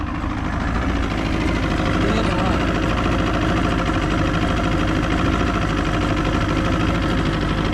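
The engine of a Glastron speed boat idles at a steady, loud, continuous rumble close by, broad and unbroken throughout after being brought back to life.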